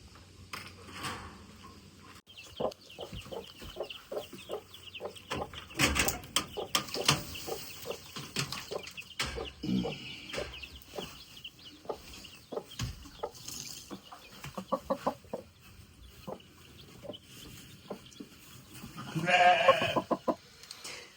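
Farm chickens, including young chicks, cluck and peep in scattered short calls, with occasional sheep bleats and faint mechanical rattles in the background of an outdoor yard.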